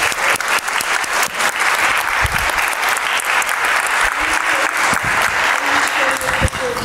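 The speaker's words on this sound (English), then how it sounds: "Can we give them a round of applause, please?" An audience at a talk on rehabilitation and re-entry in Milwaukee gives a loud, continuous round of applause, dense and steady for the whole stretch, with a few voices faintly audible beneath it.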